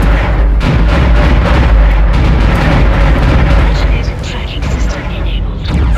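Loud, dense booming shots and blasts from the video game Dead Space crowd the scene continuously, heavy and close, with a voice talking over the noise.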